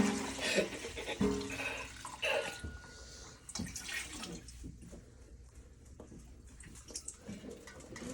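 Fresh cow's milk pours and splashes into glass jars in several bursts, with clinks of glass and handling noises between pours.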